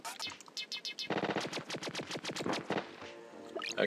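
Triple shots fired in the B.O.B. video game: rapid, evenly spaced volleys of bright, synthetic zapping bursts, loud and close, over several seconds.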